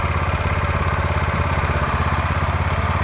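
Brait BR-135GEDS walk-behind tractor driving along, its small engine chugging steadily and loudly up close with an even, throbbing pulse and no talk.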